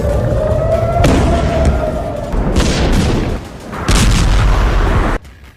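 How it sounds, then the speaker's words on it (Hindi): Loud, booming blasts and rumbling impacts from an Iranian missile attack, several heavy explosions rolling one after another with broad low-end roar, then cutting off abruptly near the end. "ईरान के इस नए मिसाइल हमले की ये तस्वीरें देख लीजिए"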